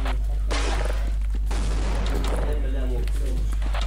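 Bombs and explosions in a Turkish-language setting: sharp loud blasts and crackling bursts over a constant heavy low hum, with a voice speaking briefly between the bangs.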